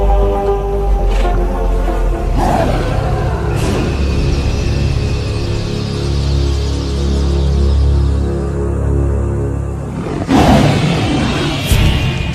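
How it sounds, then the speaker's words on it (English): A wild lion roars from a distance in open country, a long series of deep, rumbling calls that swell and fade in repeated bursts with no talk. "This roar from afar is a sound that spells trouble."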